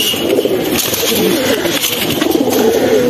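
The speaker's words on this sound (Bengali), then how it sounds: "এটা বিশাল সাইজের একটি নর কবুতর।" A large male pigeon coos in deep, rolling, repeated calls, loud and close, running continuously.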